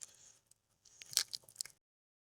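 A bite into a crispy battered sausage from an Essex chip shop: a faint first crackle, a short pause, then a close cluster of sharp, loud crunches that stops abruptly into silence.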